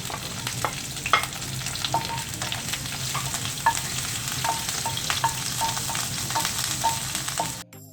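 Ginger, curry leaves and green chilli spit and sizzle in hot oil in a pan, loud and near, with light stirring clicks over the hiss before it cuts off abruptly, no voices.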